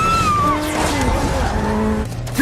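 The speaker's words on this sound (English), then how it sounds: "I thought the car chase was very thrilling." A high-speed car chase from the action film London Has Fallen, with tires squealing and skidding continuously over a loud, roaring engine, dense and close throughout.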